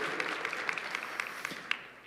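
A church congregation claps hands during a worship service, a steady dense patter of many palms at moderate distance with a few sharper individual claps standing out, no talk.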